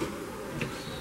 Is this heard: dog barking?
no